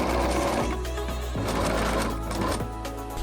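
A sewing machine runs a steady, close whirring stitch along a windsock seam, with a couple of brief pauses and restarts in the short burst and no talking.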